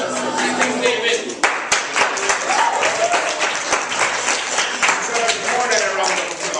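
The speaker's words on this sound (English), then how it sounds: "More than a round of applause." Sustained applause from a classroom audience, dense clapping filling the whole stretch, with some voices and cheers mixed in.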